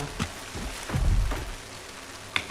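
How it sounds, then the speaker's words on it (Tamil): Rain falls in the video game ARK: Survival Evolved, a soft, continuous patter with a few louder drops and gusts over a few seconds, and no speech. "மழை வேற பெய்யுது கைஸ்."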